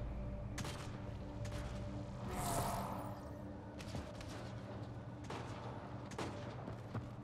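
Gunfire in the video game Mass Effect Andromeda comes as scattered shots and bursts at low level over a steady game soundscape, with a few sharper reports spaced through it.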